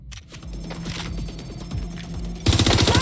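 Gunfire in the video game Watch Dogs: Legion, rapid automatic bursts over a constant rumbling bed, swelling into a louder, denser volley near the end.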